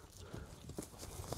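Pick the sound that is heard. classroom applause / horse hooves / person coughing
horse hooves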